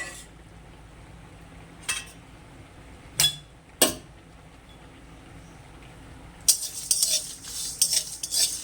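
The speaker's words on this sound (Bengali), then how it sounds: "ওর মধ্যে আমি সব মশলাগুলো দিয়ে দিব, দিয়ে ভালো করে ভেজে নেব।" Spices dry-roasting in a kadai-style wok are stirred with a metal spoon: a few sharp, separate clinks and scrapes against the pan, then a denser, continuous rustling scrape of stirring, close by with no voices.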